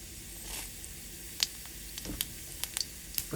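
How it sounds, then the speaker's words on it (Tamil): Mustard seeds, cumin and urad dal sputtering in hot oil give a low steady sizzle broken by a handful of sharp, scattered pops, close and fairly faint. "கடுகு உளுத்தம்பருப்பு நல்லா பொரிஞ்சிருச்சு"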